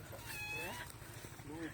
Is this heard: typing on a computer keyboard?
no